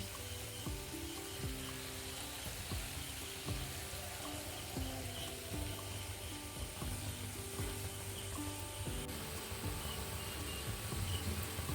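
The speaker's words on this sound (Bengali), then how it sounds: "বড়াগুলোর এক পিঠ ভাজা হয়ে গিয়েছে" Lentil fritters (bora) frying in hot oil give a steady, soft sizzle throughout, with faint clinks and stirring knocks from the pan and no talking.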